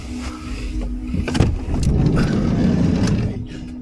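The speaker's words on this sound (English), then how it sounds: "There's a car pissing about up there." A car moves nearby outside a parked van, a steady rumbling drone with a few sharp clunks and rattles, fairly loud and close.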